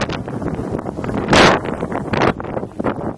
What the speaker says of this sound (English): Boy, the wind just picked up